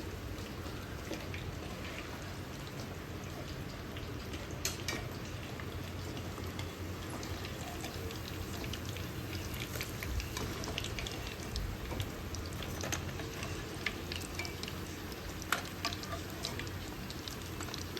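Fish pieces for pickle fry in oil to a golden color, giving a faint, steady, rain-like crackle with scattered sharp pops and no voices.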